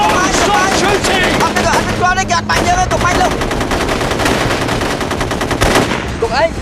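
Loud, close machine gun fire rattles in sustained bursts while voices shout over it.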